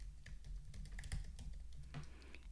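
A username is tapped out on a computer keyboard, a quick, quiet run of close key clicks in an uneven rhythm, alone in a still room.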